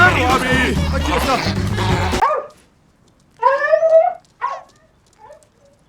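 A dog gives a short burst of sharp barks and yelps right after a loud, chaotic stretch of noise, then a fainter final yelp as things go quiet.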